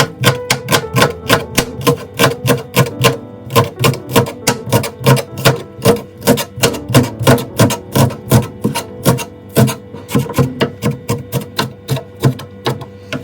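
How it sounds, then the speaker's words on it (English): A knife chops rinsed green onions into small pieces on a cutting board, giving a loud, fast, steady run of close, even thuds that continues without pause. "I already rinsed the green onions, throw away the first layer and cut into little pieces."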